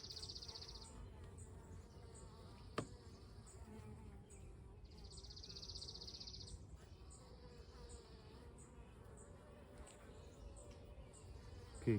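Honeybees buzz steadily around an open hive during queen rearing and larva grafting, a close, continuous drone with individual bees swelling past, plus one brief click.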